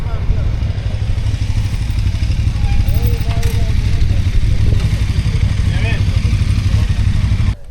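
Many motorcycles rumble loudly at the Pärnu MotoParaad 2025 motorcycle parade, a dense, continuous roar of idling and passing engines close by, cutting off abruptly at the end.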